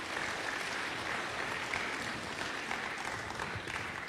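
Steady applause from a church congregation, dense and even throughout, filling the room without pause.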